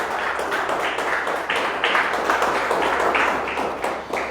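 A church congregation applauds the Lord during a worship service with sustained, moderately loud clapping that pulses in a loose rhythm over a steady wash of hand noise.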